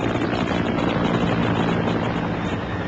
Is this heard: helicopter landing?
yes